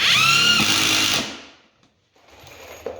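A power drill or driver sinks a screw at an angle through a floor patch into the wooden joist below, whining steadily up close for over a second before it spins down and stops, followed by faint clatter.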